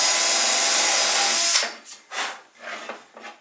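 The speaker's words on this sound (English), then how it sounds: "There's our other drill." A power drill bores into a wall for hanging a shelf, one steady loud run of about a second and a half, then a few shorter bursts of scraping and rubbing as the tool is handled.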